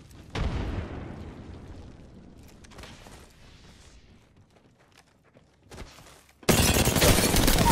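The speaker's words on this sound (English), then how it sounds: "Grenade here." A grenade in the Apex Legends video game goes off with a sudden deep boom that decays slowly, with scattered footsteps and smaller pops after it and a loud burst of noise near the end.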